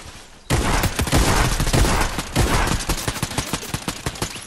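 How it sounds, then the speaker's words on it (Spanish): Rapid Fortnite gunfire erupts suddenly after a brief quiet start, a loud, close burst of repeated shots and automatic fire that continues steadily to the end. "me disparan, güey. Me disparan"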